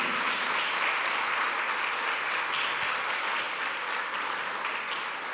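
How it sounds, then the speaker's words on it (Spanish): A church congregation applauding in praise during a sermon, a dense steady wash of many hands clapping that carries on without pause. "Dale un aplauso al Señor"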